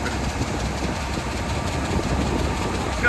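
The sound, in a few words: 8320 tractor engine pulling air seeder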